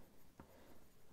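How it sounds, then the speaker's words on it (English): A pen scratches a short stroke across paper while someone works on a card-making slider project, a single faint, brief scribble in a quiet room. "I'm going to write that down."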